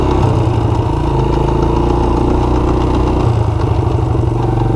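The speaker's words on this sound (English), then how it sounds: "Yeah, second gear clicks. But it's there." Engine of a Honda FourTrax TRX90 ATV with a clicking second gear, running close and loud with a steady rough drone and a fine rattling clatter throughout.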